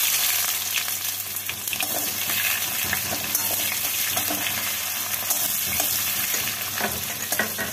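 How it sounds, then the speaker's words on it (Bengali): A large chopped onion fries in oil over bay leaves and cumin, producing a dense, continuous sizzle with faint scraping from stirring, close and steady throughout. "এবার এর মধ্যে দিয়ে দিচ্ছি 1টা বড় সাইজের পেঁয়াজ কুচি"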